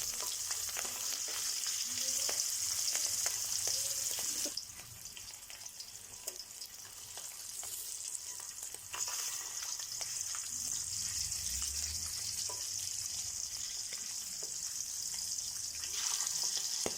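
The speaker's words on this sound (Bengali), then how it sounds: "মাছটাকে কিন্তু খুব কড়া করে ভাজা চলবে না, মাছটাকে হালকা করে ভেজে নামিয়ে নিতে হবে।" Hilsa fish pieces shallow-frying in a pan with a continuous quiet sizzle and fine crackle, with a short dip partway through before the frying noise picks up again. No one speaks.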